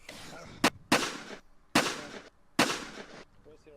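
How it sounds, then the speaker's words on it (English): Gunfire in the VRChat video game: four sharp, loud shots spaced irregularly over a few seconds, each with a short decaying tail, with faint voices between them. "I'm getting shot at."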